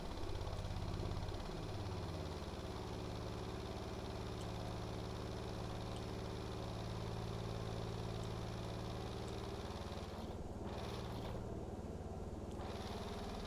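Twin boat engines run in the Stormworks video game, holding a steady mid-pitched mechanical drone with a few rising tones near the start and brief dips later on.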